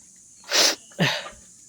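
A single close sneeze: a sharp breathy intake followed by an explosive burst, loud against a quiet background.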